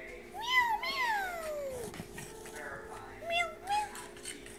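A person imitates a cat with a string of drawn-out, gliding meows, several in a row and then a pause before two shorter ones, close and clear.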